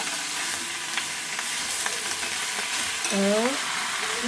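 Steady, close sizzling of leafy greens frying in a pan, with a brief scraping stir near the end.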